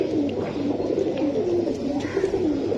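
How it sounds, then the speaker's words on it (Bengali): Large pigeons coo in a soft, repeated low warble, close and steady, with faint background hiss and no talking. "বিডার একটা একদম বিরাট কবুতর, একদম বিরাট কবুতর"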